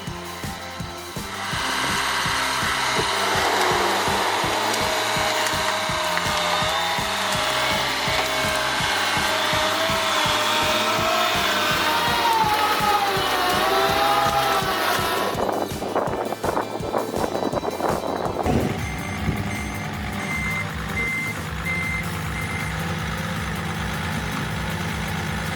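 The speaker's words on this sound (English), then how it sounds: "Welcome to the heart of a snowy winter forest, where the John Deere 1110E is hard at work." A John Deere 1110E forwarder logging in a snowy winter forest: a steady, loud diesel drone with rhythmic mechanical pulsing, splintering wood and creaking timber, then a shift to a rougher, clattering load near the end.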